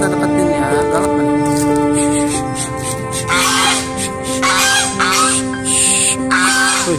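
Geese honk loudly and close by in repeated harsh calls, with people talking over them.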